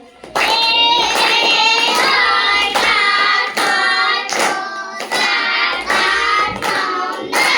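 A class of young children in a first-grade maths lesson clap their hands in a steady, rhythmic beat about twice a second, while their voices chant loudly together over the claps.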